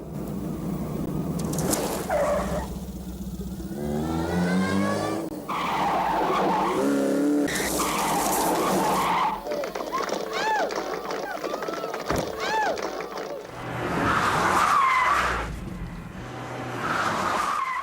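A car skidding through a handbrake-turn stunt by a precision driver, with loud tire squeals and engine revving in bursts, heard close, while people talk over parts of it.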